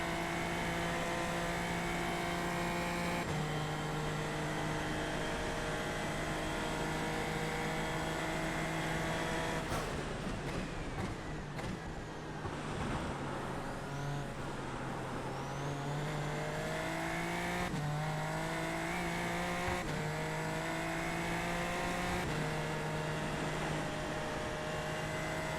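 Super Formula Lights race car at full throttle in the rain at Road Atlanta, a loud, steady high-pitched engine note holding near constant, with a brief dip and rising whine mid-pass.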